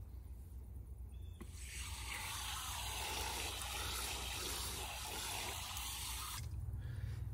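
Water pours steadily into a tray of seedlings for several seconds, a close, even splashing rush that starts abruptly and stops just as suddenly, with quiet background before and after.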